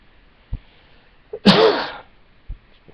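A single close, loud sneeze from a lecturer during a talk on Emile Durkheim's research, a short sharp burst standing out against a quiet room with a faint breath or click before it.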